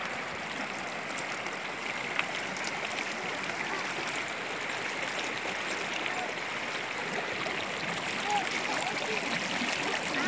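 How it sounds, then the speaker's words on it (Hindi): Clear mountain water from Gulmarg in Kashmir rushing in a stream, a steady, fairly soft continuous gurgling flow with no pauses. "साफ़ शिफा पानी के ज़खायर जो गुलमर्ग से आ रहे हैं"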